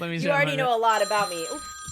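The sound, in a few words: phone ringing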